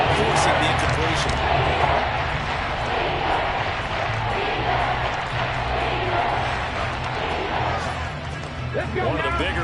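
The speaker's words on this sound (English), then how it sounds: "The crowd getting into it as we come up on a big 3rd down" A football stadium crowd roars loudly ahead of a big third down, a steady, dense wall of noise that swells and holds throughout.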